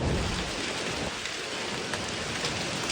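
Heavy thunderstorm rain in the American Midwest and South, with hail reported: a dense, steady roar of rain pounding surfaces, with faint low rumbles beneath and a few sharper drop impacts, constant and loud throughout.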